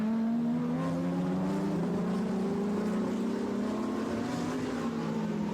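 GT3 race cars including a Lamborghini racing in a pack, a continuous droning engine whine with rising and falling pitch from several cars close together, loud and sustained.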